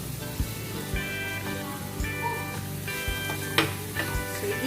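Garlic sizzling in a frying pan, a steady crackling hiss with scattered pops and light clinks of a utensil against the pan, no voices.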